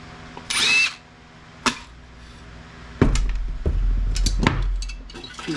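A power drill undoing screws on the MOSFETs of a QSC amplifier being scrapped, heard as a few short bursts of whirring, with a longer rattling run of drilling and clatter near the end.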